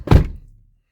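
An Audi TT Mk2 car door swings shut with a single solid, close thunk that fades quickly, with no one talking.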